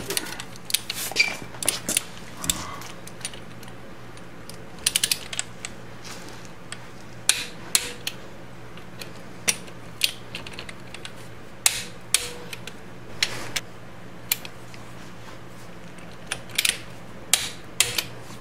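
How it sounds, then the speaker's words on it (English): A torque wrench tightens bolts on the final drive of a 2002 BMW K1200RS motorcycle, bursts of rapid ratcheting clicks repeating in short runs with pauses between, close and crisp over a quiet room hum. "Now I'll torque them to 26 foot-pounds."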